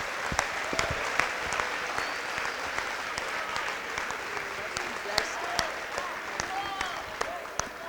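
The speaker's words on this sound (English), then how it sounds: "Round of applause for them." Audience applause at a high school football Super Bowl gathering, a steady wash of crowd clapping with sharper individual claps popping out, voices mixed in beneath it.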